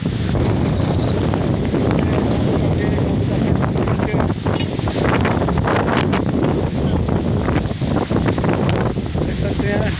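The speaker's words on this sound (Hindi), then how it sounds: "आप देख सकते हैं ये हवा चल रही है माशाल्लाह" Strong wind blowing outdoors in Fatehpur during rainy weather, loud continuous buffeting and rushing across the microphone, with someone talking over it throughout.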